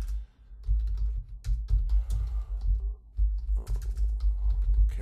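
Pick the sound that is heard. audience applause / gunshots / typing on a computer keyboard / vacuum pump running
typing on a computer keyboard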